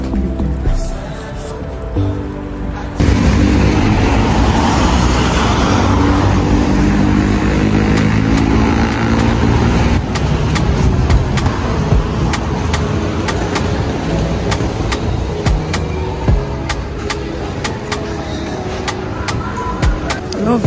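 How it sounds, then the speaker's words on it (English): Cars pass on a road near a Tesco, a loud continuous wash of traffic noise, with the roar swelling after a few seconds and holding close and steady to the end. "That's why you're seeing cars already."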